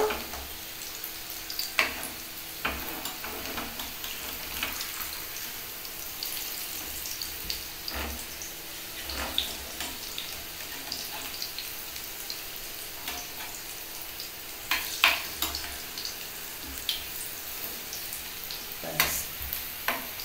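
A soft, steady sizzle of pumpkin slices frying in a pan, with occasional light crackles and clicks, fairly quiet and continuous with no talking.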